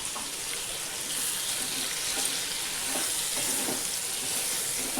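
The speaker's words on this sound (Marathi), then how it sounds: "आता छान मिक्स करून याला परतून घ्यायचं." Ridge gourd curry stir-fries with a ground masala paste and a little water in a pan, a steady moderate sizzle with soft stirring scrapes and bubbling throughout.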